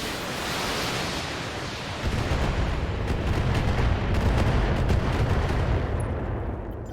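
A dense, roaring barrage of mech weapons fire in the Battletech video game, a continuous rumbling wash of explosions that swells after a couple of seconds and then holds steady, loud and without voices.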